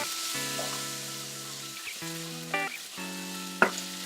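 Steady hiss of frying garlic in a hot pan, with a few clinks of a utensil stirring near the end; no voices.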